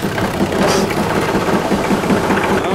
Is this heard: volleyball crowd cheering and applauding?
no